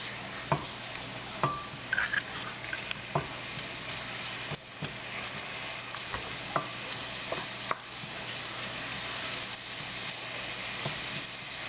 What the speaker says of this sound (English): I'm going to cook the onion for 1 more minute.